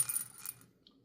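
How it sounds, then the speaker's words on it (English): Dice clattering briefly on a surface during a tabletop baseball game, a quick rattle of small hard impacts that dies out within a second. "the dice rolls a 16"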